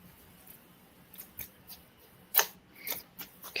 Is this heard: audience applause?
no